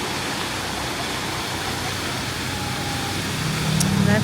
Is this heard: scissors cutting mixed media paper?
no